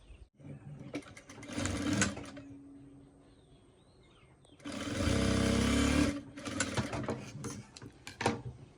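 A sewing machine stitches a folded hem after two fabric pieces are joined, running in several close, rattling bursts separated by brief pauses.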